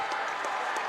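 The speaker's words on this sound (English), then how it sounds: "Crowd coming alive again" Crowd cheering and applauding at a college swim meet between Mary Washington and Lynchburg, a steady, fairly distant wash of clapping and shouts lasting under a second.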